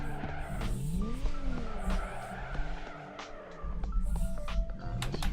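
A race car drifts in Torque Drift 2, its engine revving and dropping while tires squeal and skid in long sliding tones, loud and continuous with a brief lull midway.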